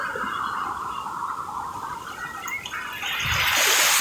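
Sea water at Copacabana beach, a steady broadband wash and rush of waves that swells louder toward the end.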